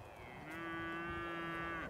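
Simmental cattle moo at a farm where heifers are kept, giving one long, loud, drawn-out call that holds steady before trailing off, close by, with no talk over it.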